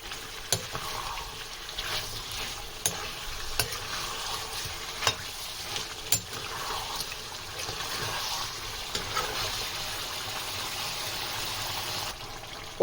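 Chicken karahi frying and sizzling in a pan over a medium flame, with a steady crackling hiss and a few sharp scrapes as it is stirred.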